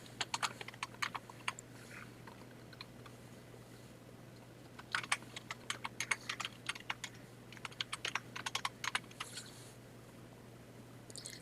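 Close, quiet typing on a computer keyboard, irregular bursts of light key clicks with a pause early on, over a faint steady hum.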